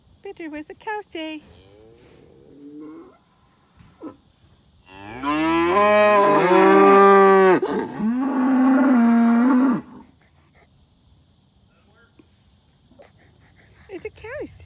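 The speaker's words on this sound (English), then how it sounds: "It's a cow." A cow moos loudly in one long, drawn-out call with a short break, standing out between stretches of quieter chatter from children and adults at a farm setting.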